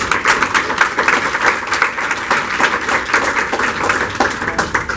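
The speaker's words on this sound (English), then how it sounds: "let's give our speakers a round of applause." An audience at a neighborhood council event on homelessness gives its speakers a round of applause, dense steady clapping filling the room from start to finish, close and fairly loud with no talking over it.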